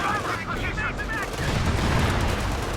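Tank main-gun fire and battle explosions from the video game Company of Heroes 2, a dense stream of booming shots and blasts heard at steady loudness under a faint melodic game sound.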